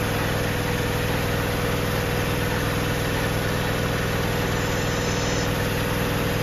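A Caterpillar 988 wheel loader's engine runs steadily and loudly at close range, a dense droning rumble with constant harmonic hum while the hydraulics lower the load, with no voices.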